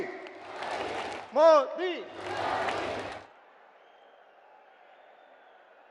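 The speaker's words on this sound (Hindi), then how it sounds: "सब लोग ताली बजाकर उनका स्वागत करें" A crowd at a political rally in Ajmer, Rajasthan, for Prime Minister Narendra Modi applauds and cheers in two loud bursts around a single shouted name, then fades to a low hum.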